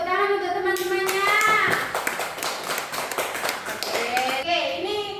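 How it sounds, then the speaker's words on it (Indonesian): A fourth-grade classroom claps for classmates after a poster presentation on saving energy, a steady patter of hands running throughout with children's voices and talk mixed in. "Oke, beri tepuk tangan untuk teman-temannya."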